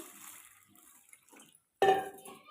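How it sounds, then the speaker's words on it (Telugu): After a quiet stretch, water splashes briefly and loudly into a small bowl, close by. "దీనికైతే వాటర్ పోసి"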